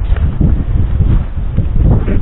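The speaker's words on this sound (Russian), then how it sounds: "Ветерок такой дует" Wind gusts buffet a microphone outdoors on a snowy winter day in the village, a low rumbling rush with uneven bursts and no talking.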